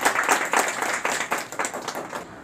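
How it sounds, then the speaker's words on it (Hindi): Hands clap together in a brief round of applause at a felicitation ceremony, fairly close and loud at first, then easing off toward the end. "एक बार जोरदार तालियां।"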